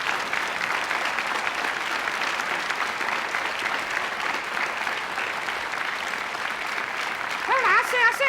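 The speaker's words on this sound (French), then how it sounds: "je crois qu'on peut t'applaudir là" Sustained audience applause in a French television studio, a steady even roar of many clapping hands lasting several seconds, with a voice beginning to speak over it near the end.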